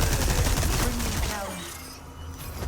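Shotgun blasts and TNT explosions from Resident Evil 4 Remake, a dense burst of loud booming shots and blasts packed together, fading slightly toward the end.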